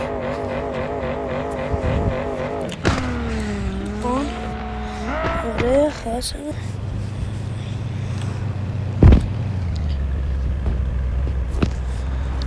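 Engines from cars racing in the mobile game Car Parking, revving and changing pitch through gear shifts over a steady loud drone, with a brief sharp hit partway through and someone speaking briefly.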